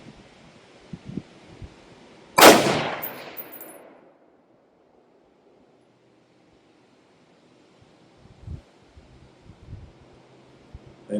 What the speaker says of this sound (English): First shot out of the AR-10.